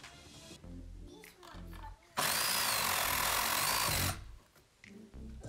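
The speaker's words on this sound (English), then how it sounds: "Next step, grab your Sawzall." Sawzall reciprocating saw cutting into drywall while moving an electrical outlet, a loud, harsh buzzing burst of about two seconds between quieter handling noises and a voice.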